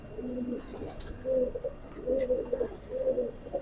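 A teddy pigeon coos in a steady series of soft, throaty phrases, close and clear over faint background hiss, with no talking.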